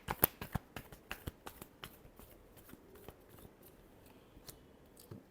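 Tarot cards are shuffled at close range, giving a quick run of sharp riffling snaps that are loud at first and then thin into softer, scattered flicks.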